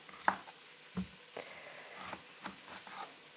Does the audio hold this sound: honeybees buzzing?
no